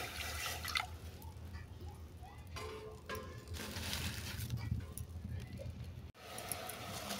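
A small amount of water is poured into a cooking pan while making a spicy Bengali fish curry, giving a soft, fairly faint splashing and trickling with kitchen background noise.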